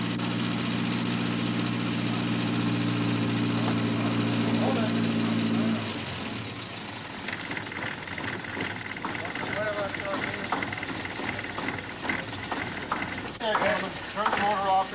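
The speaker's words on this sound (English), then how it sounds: "Turn the motor off. Turn the engine off." A car engine idles loudly and steadily for about six seconds, then cuts off and leaves softer background noise with people talking.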